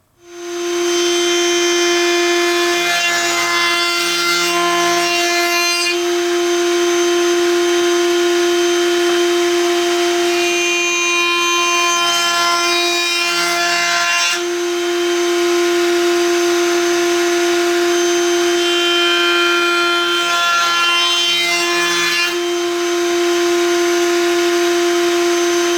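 A router with a 3/8-inch round-over bit gives a loud, steady high-pitched whine almost nonstop, with a few brief dips in pitch as the bit bites into wood.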